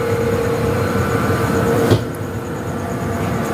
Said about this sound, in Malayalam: ഇത് ചരക്ക് ട്രെയിനാണ്.